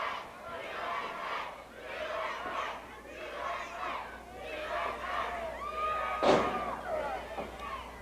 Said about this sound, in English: Listen to the crowd chant, USA,